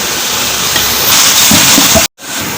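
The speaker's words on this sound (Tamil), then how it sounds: "எல்லாத்தையும் போட்டு நல்லா வதக்கி விட்டுக்கலாம் ஃப்ரெண்ட்ஸ்." Onions and other ingredients sautéing in a pan for mushroom biryani, a loud broad steamy hiss and sizzle with some stirring rattles that swells midway, then cuts off abruptly before resuming.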